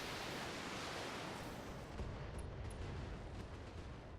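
An M20 weapon in the mech combat game BattleTech fires at a turret: a loud, dense wash of gunfire noise with a few sharper cracks in the second half, and no voices.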